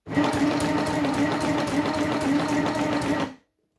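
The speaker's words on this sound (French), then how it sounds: "Et là, je vais commencer à coudre." A Stitch Happy sewing machine runs in one steady, close, continuous burst of stitching through fabric, then stops abruptly.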